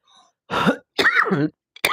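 A few throat clearings and coughs come in short bursts, close and fairly loud, with brief silences between them.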